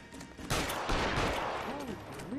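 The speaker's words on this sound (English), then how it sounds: "Damn, he's shooting at me." Gunfire in the L.A. Noire video game: a sudden loud volley of shots bursts in and rolls on as a dense, echoing barrage, with someone briefly talking over it.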